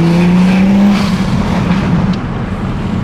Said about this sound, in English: I know y'all missed the sound of the Supra